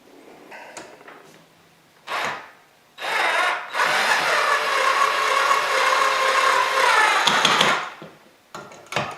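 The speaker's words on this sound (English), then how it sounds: "Now I just have to put these 2 in and tighten them." Screws being tightened on a Harbor Breeze Grace Bay ceiling fan with a power drill, several separate whirring bursts, the last one long and steady, close and loud with short pauses between.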